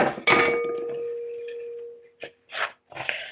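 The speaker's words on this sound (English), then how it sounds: "Sorry for the knife banging the dish over here." A metal kitchen knife strikes a dish during salad and vegetable prep, giving one sharp clink that rings on for about a second and a half, followed by a few short clattering knocks.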